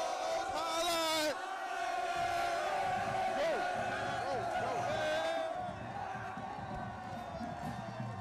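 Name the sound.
fired-up football crowd cheering at the stadium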